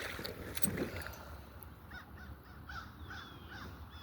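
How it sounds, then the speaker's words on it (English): Crows caw repeatedly outdoors in a loose series of harsh calls, moderately distant over a steady wind-like background hiss. "Got some crows."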